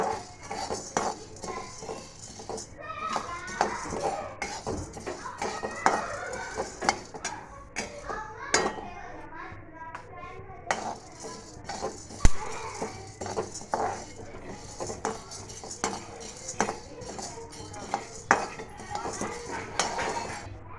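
A utensil scrapes and clinks against a pan while lentils roast for homemade yesur masala, a steady run of repeated metallic stirring knocks, close and fairly loud, with no voices.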